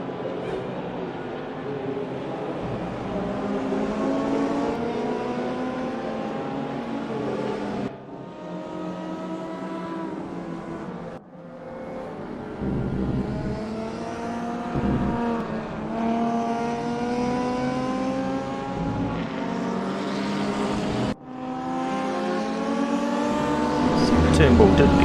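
Race cars running side by side in a sim racing game, engines whining and rising through the gears with sharp drops at each shift, loud and continuous under a commentator's voice.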